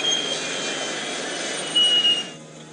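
An aircraft engine throttled back to idle gives a steady, loud broadband drone that briefly swells and then thins out abruptly near the end.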